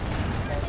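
Rapid gunfire aimed at a helicopter in Call of Duty: Ghosts online multiplayer, a dense, continuous burst of loud shots and booms filling a brief moment.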